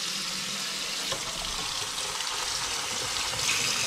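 Water pours steadily onto a water-resistant down jacket, a continuous soft splashing hiss with no breaks, fairly quiet and close, with no voices.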